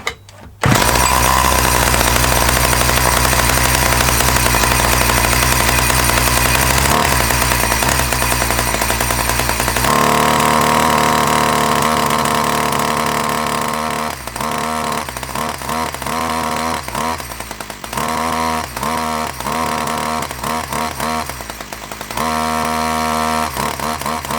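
A 1982 Dolmar 100 chainsaw fires up and runs, a loud close engine roar held steady at first, then settling into a rougher, pulsing idle with uneven bursts.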